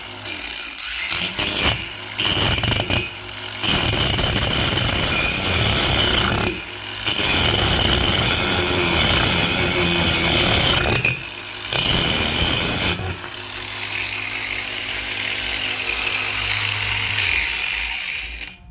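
An angle grinder cuts into wood, loud and close, with a harsh rasping whine that runs in long bursts broken by short pauses as the blade lifts off, without clamping so the tool vibrates.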